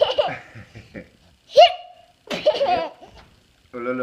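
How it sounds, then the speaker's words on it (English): A child hiccups in sharp, isolated bursts between bouts of giggling and laughter, close and loud indoors, with brief adult chatter around them. "He's got hiccups?"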